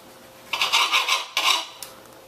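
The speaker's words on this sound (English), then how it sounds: "First things first, we got the tomato. I'm going to slice it up." A knife slices a Jersey beefsteak tomato on a cutting board in a few crisp, close strokes: a longer run of cuts, then a shorter one and a final light tap.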